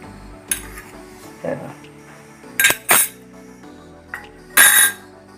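Flour being tipped into a bowl for puri dough, heard as a few sharp clinks and knocks of utensils against a metal or glass bowl, scattered irregularly and fairly close, with a hum of kitchen background between them.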